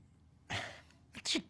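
A single close sneeze bursts out, a sharp intake followed by an explosive release, alone in a quiet room.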